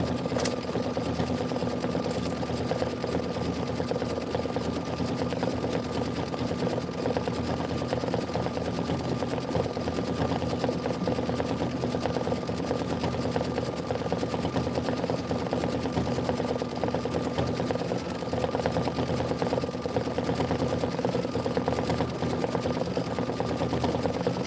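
A home embroidery sewing machine stitches a Kimberbell beach-themed tile design, running in a fast, steady, close mechanical whir with a continuous rhythmic needle chatter throughout.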